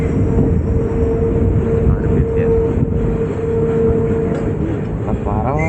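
The Tuticorin–Mettupalayam bi-weekly express runs in a loud, continuous rumble with steady rolling rail noise and a faint whine, heard from on board at close range, with some voices under the din.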